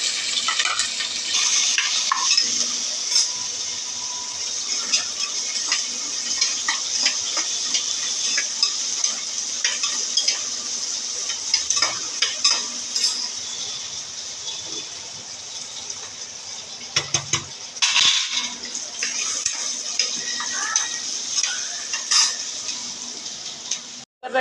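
Potato, eggplant and onion frying in a pan with spluttered mustard seeds and cumin, a steady loud sizzle with scraping stirs and occasional clinks of a utensil against the pan, close and continuous.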